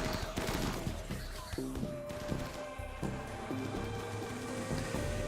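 Rapid bursts of automated turret gunfire in the RimWorld video game, crackling repeatedly over steady in-game music with a faint voice in the background.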